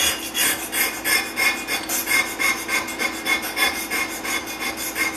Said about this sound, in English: You hold your scraper at an angle, just like what you see me doing right here. You're going to scrape that rust off.